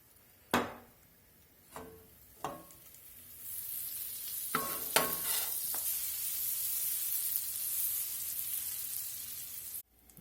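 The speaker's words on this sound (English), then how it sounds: "that's exactly what you want to hear when they hit the frying pan. They need to start sizzling right away." A few sharp clatters, then scallops hit a hot frying pan and a loud, steady sizzle hisses on, stopping abruptly at the end.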